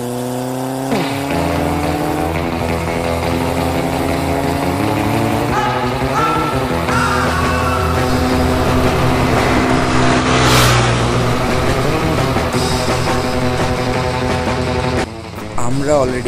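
Motorbike engine running hard at speed on the road from Sylhet to Sada Pathor, a steady loud roar with shifting engine tones, plus a brief rising whoosh of another vehicle passing midway.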